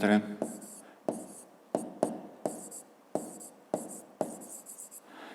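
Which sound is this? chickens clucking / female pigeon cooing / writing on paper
writing on paper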